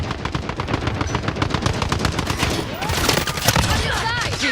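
Rapid automatic gunfire from a shooter game, the Modern Warfare 4 beta, rattles in dense loud bursts throughout, with a brief burst of in-game chatter and effects near the end.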